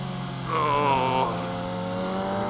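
A Ducati motorcycle riding past on a road, its engine note rising and then falling away as it passes, over a steady low background hum.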